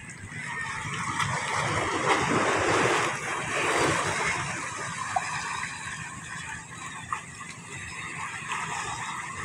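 Steady northeast monsoon wind blowing over open sea, with surf washing in the background; a continuous rushing roar with a couple of faint knocks.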